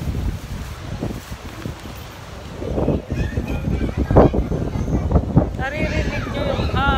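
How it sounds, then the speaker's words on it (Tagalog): Strong gusty wind buffets the microphone in a rough, continuous rumble, with people talking faintly underneath. "Ang lakas ng hangin!"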